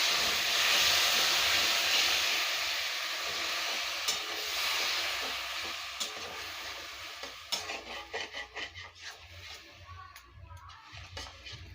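Water poured into a hot pan of prawn curry with chilli powder, a loud steady steam hiss that gradually fades and gives way to softer bubbling sizzle with small clinks.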